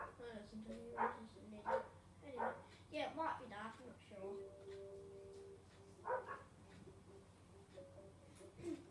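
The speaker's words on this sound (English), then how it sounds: "My dogs are going crazy at the moment." Dogs bark in short, sharp bursts several times during a backyard gaming session, fairly loud and mixed in with ongoing conversation.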